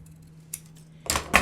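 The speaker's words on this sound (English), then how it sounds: "I'm going to take just one strip of the secret tape and I'm going to cut it in half" Scissors cutting a strip of secret tape in half, heard as two quick, close crisp snips in a row after a faint click, in an otherwise quiet room.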